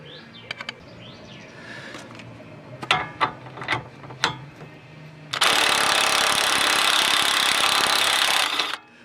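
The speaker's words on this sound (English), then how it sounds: "I'm using the drill to break through that piece of rust" A power drill grinds through a rusted bolt on an Alfa Romeo rear suspension, first a few short ratcheting bursts and knocks, then a long loud continuous whirring run that cuts off abruptly.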